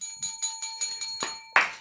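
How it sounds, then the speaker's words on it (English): A bell rings in a quick, even series of about seven clear metallic dings, each fading fast, with the final strike louder and harsher than the rest. "Ring the bell."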